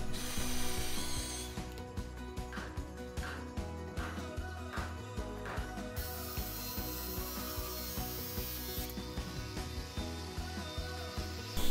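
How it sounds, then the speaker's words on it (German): Ratchet wrench tightening carriage bolts on a homemade wooden garden bench, a steady stream of quick clicks in an even rhythm over a busy background. "Zusätzlich wurde das Ganze mit Schlossschrauben miteinander verschraubt."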